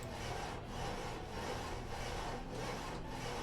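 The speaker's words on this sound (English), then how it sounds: "you've been sawing for quite a while" A villager saws lumber in the Banished video game, a continuous rasping back-and-forth stroke of saw on wood with a steady rhythm, close and alone with no talk.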